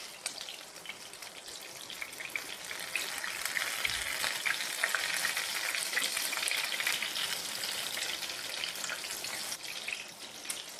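Prawn cutlets fry in a pan of oil over a medium flame, giving a steady, dense crackling sizzle that stays even and fairly close throughout.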